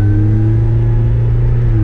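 A modified MINI Cooper S R53 with a supercharger and Miltech exhaust holds a loud, close, steady engine drone with strong low rumble and a faint high supercharger whine on top.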